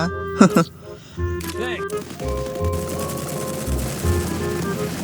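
Rapid automatic gunfire from the battle-royale game Free Fire, bursts of shots rattling under a player's excited talking and in-game sounds.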